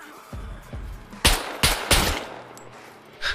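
In the video game SCUM, an AK15 rifle fires several loud, sharp shots in a quick uneven sequence, two lower thumps followed by three bright cracks, with a final shot at the end.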